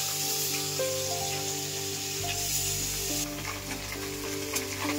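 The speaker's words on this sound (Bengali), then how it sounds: "দুবারে ভেজে নেবো মাছগুলো।" Puti fish sizzle steadily in hot mustard oil in a kadai, a continuous loud crackling fry with a faint tonal hum in the background.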